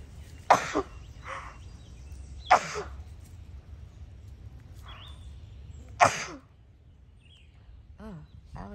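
A Basenji dog sneezes three sharp, close times in a backyard, the bursts spaced a couple of seconds apart, while birds call faintly in between.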